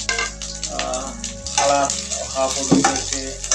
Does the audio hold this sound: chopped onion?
yes